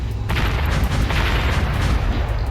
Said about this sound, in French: Et les canons c'est beaucoup plus puissant que les mitraillettes.